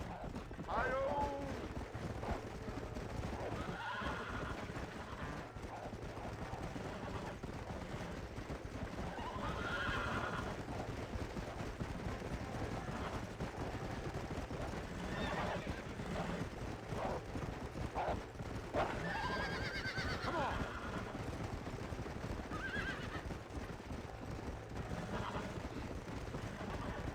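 Horses whinny and snort over steady hoof clip-clop in the video game Red Dead Redemption, with music or ambience underneath and people talking intermittently.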